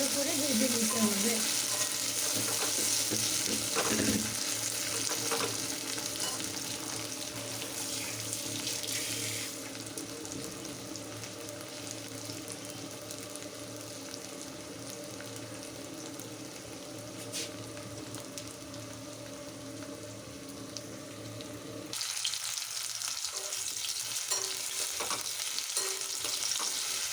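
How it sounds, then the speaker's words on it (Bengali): Taro and potatoes fry in a pan, giving a steady, close crackling sizzle that runs for the whole stretch with occasional stirring scrapes and no talk. "কচু আর আলুটা ভালো করে ভেজে নিতে হবে।"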